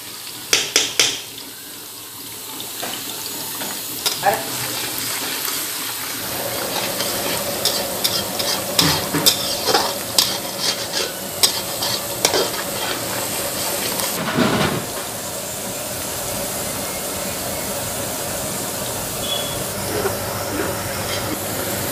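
Ajwain, cumin and plenty of chopped garlic fry in hot oil, a loud continuous sizzle broken by repeated clattering stirs of a spoon against the pan, with a sharp burst of spitting midway before the steady frying hiss settles.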